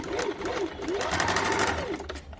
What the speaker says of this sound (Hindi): इस प्रकार पहले हाफ इंच पे हम लोग सिंगल सिलाई डाल देंगे।